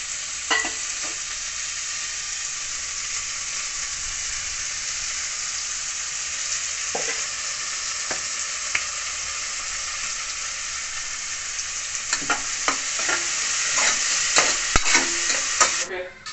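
Onions fry in oil in a pan on a home stove, producing a steady, close sizzle with occasional clicks and scrapes as they are stirred.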